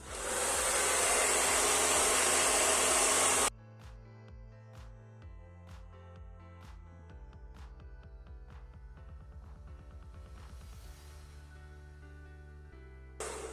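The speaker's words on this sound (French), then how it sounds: "Sèche au sèche-cheveux" A hair dryer blows steadily and loud for about three seconds while drying a painting of uncooked spaghetti on paper, then cuts off abruptly, leaving quiet background.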